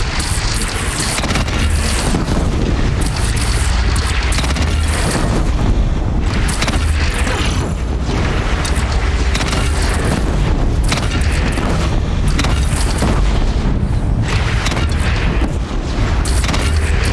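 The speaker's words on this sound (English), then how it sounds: "They only have one cannon!" Heavy cannon booms and blasts pound continuously in Horizon Zero Dawn, dense and loud, like a chaotic battle, with a rumbling roar underneath throughout.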